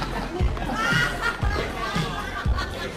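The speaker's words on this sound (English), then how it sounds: "Sounds like a pretty happy crowd in there." A happy party crowd of adults and children in a room, a lively mix of overlapping chatter and shouts heard at moderate distance, with a steady thumping beat in the background.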